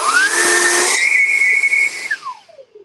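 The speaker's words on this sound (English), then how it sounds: "this nozzle is actually a prototype, and it has that whistle to it, so it's a little bit loud right now" A prototype pressure washer nozzle blasts with loud hissing spray and a piercing steady whistle that holds, then slides down in pitch as the flow cuts off and fades.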